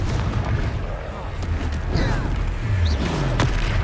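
A Confringo fire spell detonates in the Hogwarts Legacy video game, a booming blast amid continuous battle noise, with rumbling effects and whooshes layered through a busy, loud game soundtrack.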